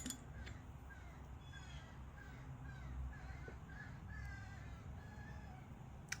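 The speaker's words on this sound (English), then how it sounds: "Do you guys hear the bird behind me? It is so loud." A crow caws outdoors in a series of repeated, fairly faint calls, heard behind a quiet indoor room with a low background hum.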